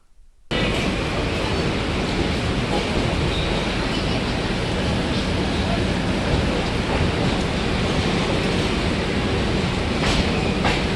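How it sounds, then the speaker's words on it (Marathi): The Saurashtra Janta Express, Bandra Terminus to Veraval, rumbles out of Ankleshwar Junction, a loud, steady roar of wheels and carriages with faint rhythmic clatter starting abruptly and continuing unbroken. "जवळपास 2 मिनिटाच्या हॉल्टनंतर 6:45 ही गाडी इथनं डिपार्ट झालेली आहे."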